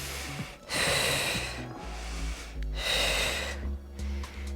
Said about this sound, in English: I inhale, exhale.